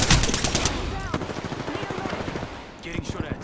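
Rapid automatic gunfire and scattered shots crackle through a firefight in the battle royale shooter Apex Legends, dense bursts packed close together over continuous combat noise, with a voice speaking briefly underneath.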